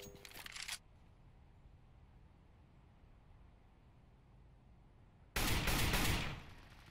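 Two loud bursts of gunfire from the game CS:GO, one brief at the start and a longer one near the end, with a quiet low hum between them.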